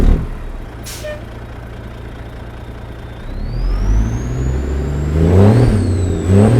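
A simulated semi-truck in American Truck Simulator gives a brief burst of air hiss, then idles as a low rumble. The engine cranks and fires up into a louder, rising rev and settles into a deep idle with intermittent pulses.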